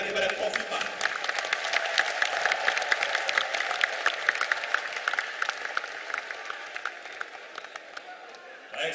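A dense crowd applauds steadily at an Indonesian NasDem political gathering, with continuous clapping that holds at an even level and fades slightly near the end.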